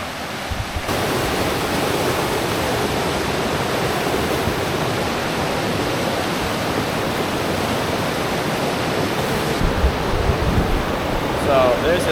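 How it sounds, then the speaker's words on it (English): A fast, rain-swollen stream rushing over rocks on Adirondack public land during a rainstorm, a loud continuous broadband roar of churning water close by, steady throughout with no talking. "the water is moving so fast that I don't know if I'm gonna get across it"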